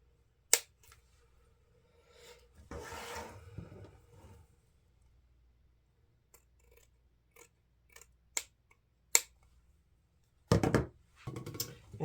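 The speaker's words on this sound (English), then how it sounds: "I think I'll angle cut this orange felt" Scissors snip across orange felt while making a Dollar Tree fall wreath: sharp, sparse cuts spaced through a quiet stretch, with a brief rustle of handling and a louder burst of cutting near the end.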